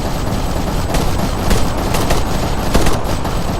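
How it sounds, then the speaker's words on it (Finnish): Dense, continuous gunfire in the military shooter game ArmA 3, with overlapping bursts and volleys cracking at a steady loud level and sharper shots standing out near 1, 1.5, 2 and 3 seconds, no talk. "Kyllä täällä ainakin ammuskellaan."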